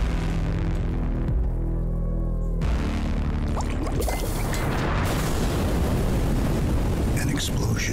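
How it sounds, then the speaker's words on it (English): An explosion lights up the night in an early-access potion-based RPG video game: a sudden, broad blast followed by a sustained rumbling, crackling roar that fills the rest of the moment. "an explosion lights up the night."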